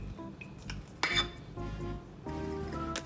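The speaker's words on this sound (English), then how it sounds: "Then mix it very well." Philadelphia cream cheese and an equal amount of whipped cream are mixed in a bowl for a red velvet cake. A utensil clinks and scrapes against the bowl in short, close bursts.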